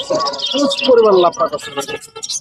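Cockatiels and other caged birds chirp and call at a busy bird market in Tongi, Gazipur, their sharp tweets mixed in with nearby vendors and buyers talking.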